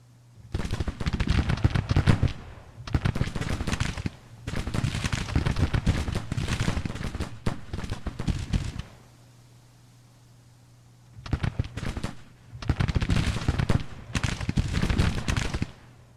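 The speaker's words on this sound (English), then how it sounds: "Guys must have rifles as well. Yeah, returning our fire." Massed rifle volleys crackle across a Civil War battlefield in Grand Tactician, loud bursts of rapid overlapping gunfire lasting a second or two each and separated by short quiet gaps.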